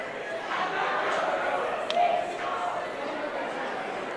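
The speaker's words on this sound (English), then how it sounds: "Crowd is going crazy" Spectators cheer and shout at the finish of a cardboard canoe race, a steady broad crowd roar at moderate distance, holding level throughout with a brief louder burst midway.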